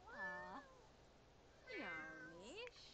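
A cat in The Sims 4 Cats and Dogs video game meows twice, each call clear and drawn out, separated by a short quiet pause over faint background hum.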